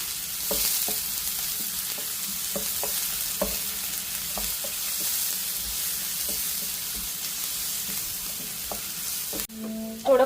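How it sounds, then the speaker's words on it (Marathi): Onion with a ground masala paste is sautéed in a pan, giving a continuous sizzling hiss with regular light scraping taps from stirring, then a short metallic clank right at the end. "त्याच्यामध्ये जे वाटण केलं होतं आपण ते टाकायचं आणि कांदा परतून घेऊया"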